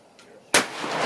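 A single sharp, loud rifle blast from F-Class competition shooting cracks out after a quiet moment, followed by a lingering rumble across the range.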